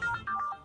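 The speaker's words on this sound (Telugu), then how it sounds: "ఏమిటి రాధాకృష్ణ ఈ టైంలో ఫోన్ చేస్తున్నాడు?" A mobile phone ringtone for an incoming call sounds in short bright melodic tones, loud and close, with no talking over it.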